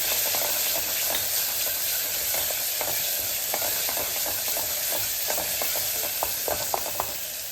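Masala with ginger and garlic sautés in a pot for kadala curry, giving a loud continuous hissing sizzle with soft scattered stirring clicks underneath, no voices.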